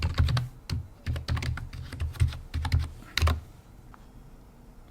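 Keys on a computer keyboard are tapped in quick, uneven bursts while a password is typed into a Kali Linux wireless login, close and fairly quiet, then stop near the end.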